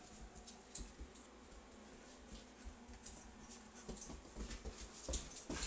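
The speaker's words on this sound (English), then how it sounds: "that's my dog" A pet dog whimpers faintly in a room, soft intermittent whines mixed with small scuffling and jingling noises as it runs in place chasing its tail.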